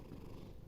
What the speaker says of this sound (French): Vous allez sûrement entendre mon chat en train de ronronner